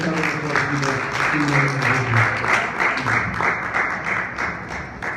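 A church congregation in Richmond claps steadily through the whole stretch, a dense, continuous wash of applause with a preacher's voice speaking over it.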